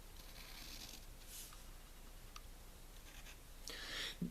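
Pencil scratching over paper while sketching a cartoon penguin Pokémon, soft and steady close-up strokes with a few brisker scribbles near the end, no talking.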